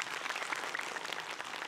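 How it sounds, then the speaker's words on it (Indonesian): A studio audience claps together in a soft, dense patter that runs steadily from start to end, somewhat distant and low in level. "Tepuk tangan dulu yuk."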